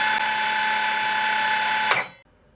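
A cordless circular saw spins steadily in silent mode with a high, even whine, then winds down and stops abruptly about two seconds in, close up and alone.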